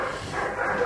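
A 13.5-year-old collie gives a short, muffled bark or yelp, brief and fairly close, over a dull background.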